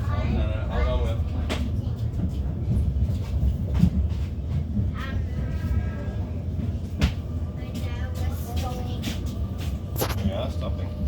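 A passenger train runs on rails near Hamilton station, heard from inside as a steady low rumble broken by sharp clacks and knocks, with voices speaking over the ride.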